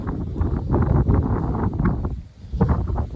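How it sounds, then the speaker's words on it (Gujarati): Strong wind at Diu Fort buffets the microphone in heavy, low rumbling gusts that ease briefly before surging again. "પવન બહુ છે"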